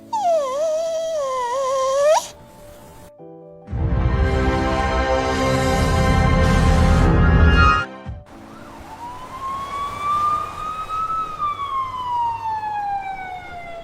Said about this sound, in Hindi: सिर्फ एक चीज जिंदा थी, परिवार का पालतू कुत्ता टॉमी, जो छत पर बंधा मिला।